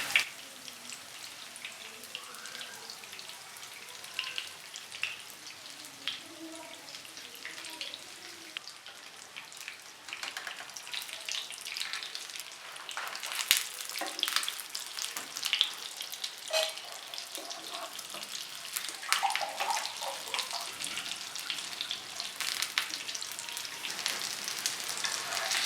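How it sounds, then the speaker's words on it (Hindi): Small breakfast snacks fry in a pan over medium-low heat, giving a soft, continuous sizzle with crackling pops and spits that rise and fall, close by with no talking. "मीडियम टू लो आंच पे इनको फ्राई करेंगे"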